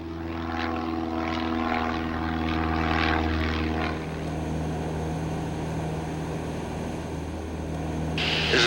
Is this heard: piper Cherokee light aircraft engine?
yes